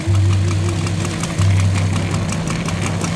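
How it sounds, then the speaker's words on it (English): Piston engines of a Grumman Tigercat and a Vought Corsair run on the runway at an air show, a loud steady low drone with a throbbing hum that dips briefly before resuming, close by. "Corsair and Tigercat taking the runway. We're going to lower the music just a little bit so you can hear the engines."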